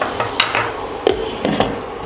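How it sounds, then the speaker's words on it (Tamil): Onions frying toward golden brown for prawn biryani, stirred in the pan with a few scraping strokes over a soft sizzle, close and fairly loud, no talk. "இன்னும் கொஞ்சம் ஃப்ரை ஆகட்டும்."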